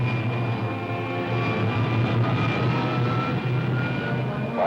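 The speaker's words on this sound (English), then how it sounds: "Fire pilot jet. Fire pilot jet." A rocket ship's pilot jet fires with a continuous, loud, rumbling roar and a steady low hum that hold evenly throughout, with no voices over it.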